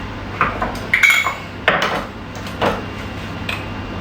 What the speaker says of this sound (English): I need my bigger knife to get the lid off the sweet paprika.